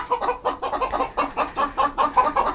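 Local chickens on a village farm cluck in a rapid, continuous chatter of overlapping calls, close by and moderately loud.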